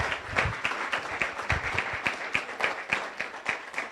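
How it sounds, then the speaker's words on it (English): Applause from a Rotary Club weekly meeting audience, honoring family members: steady, dense clapping from a room full of people, moderately loud and continuous without talk. "Let's give our family members a round of applause"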